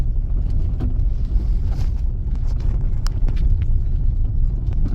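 A 2012 Ford Fiesta 1.4 TDCi diesel driving over a rough, stony road, heavy low rumble of engine and tyres heard from inside, with scattered knocks and rattles from the loose surface.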